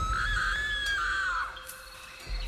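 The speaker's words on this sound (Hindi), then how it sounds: "उसे देखकर वो जोर से चीख पड़ी" A woman lets out one long, loud, high scream that holds and then trails off, followed by a brief quiet.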